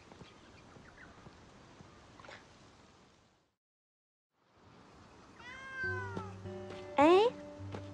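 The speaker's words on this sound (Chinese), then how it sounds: "猫咪，你是谁家的小猫咪呀？" A small stray cat gives several drawn-out meows, close and fairly clear, after a quiet stretch of faint ambient noise with a brief silent gap, while a few other sounds overlap near the end.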